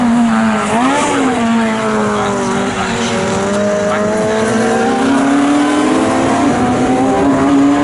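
Race cars at Snetterton circuit during an all-comers race, a silver Honda Civic pulling away, engines droning loudly and steadily with rising and falling pitch as they accelerate, continuous near-field motor roar.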